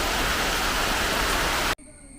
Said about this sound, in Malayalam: വീണ്ടും മഴ വന്നല്ലോ